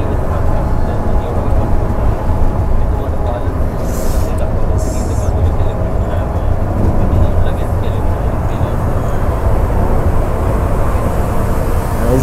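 Steady, loud engine and road drone of a Shivneri bus cruising on a highway while it overtakes a plain MSRTC bus from the Parbhani depot. The rumble is continuous and even, with no clear pass-by swell.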